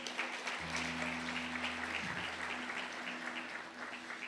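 Church congregation applauding together in a sustained, even wash of clapping, with a low steady organ or keyboard tone held underneath throughout.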